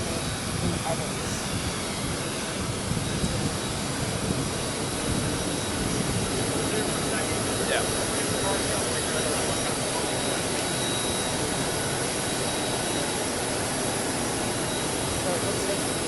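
An airplane carrying former President Donald Trump arrives in Augusta, its jet engines producing a steady, broad whooshing roar at moderate distance, continuous for the whole stretch with no clear peaks.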